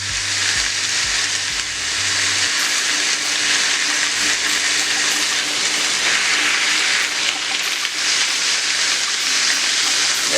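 Ground beef patty for a smash burger sizzling loudly on a hot griddle while held pressed down, a dense continuous frying hiss with a brief low rumble at the start and no talk.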